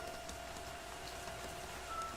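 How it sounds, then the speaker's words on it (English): A soft, steady wash of rain set into background music, faint and continuous throughout, with no talking over it. "the music I chose has a rain sound"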